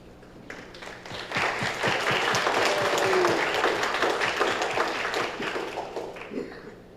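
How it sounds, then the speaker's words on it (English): Audience applause at an international press conference of a cross-party parliamentary alliance on China policy, with steady, dense clapping that swells quickly and holds for several seconds before easing off. "can you once again give a round of applause to my colleagues?"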